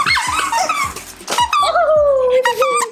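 A mini pit bull dog playing with a squeaky toy, making high whines, squeals and squeaks in quick irregular bursts, close and loud.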